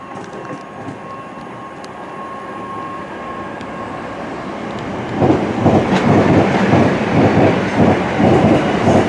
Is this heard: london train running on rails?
yes